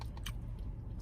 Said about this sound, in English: I'm about to eat all my vegetables too.